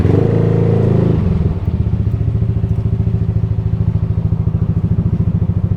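A motorbike engine idles loudly and close in a rapid, even putter after a brief louder rev, at a flooded, typhoon-damaged site at the old Clark Air Force Base.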